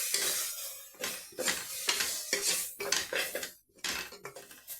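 Spatula scraping and clinking against a pan as tomato with chili powder and sambar powder is stirred and sautéed for a pea and chickpea kuzhambu, steady repeated scrapes close to the microphone, with no talking.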